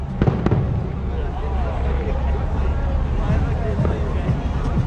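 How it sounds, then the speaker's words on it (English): Fireworks crackle and pop during a Miami boat tour, with sharp bursts early on over a dense bed of crowd chatter and the boat's constant rumble. "the tour does come with fireworks just for you guys"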